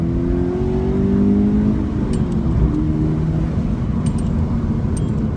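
A 2013 Scion FR-S accelerates hard, its engine note climbing steadily in pitch as it pulls through the revs, loud and close throughout with a continuous road roar beneath.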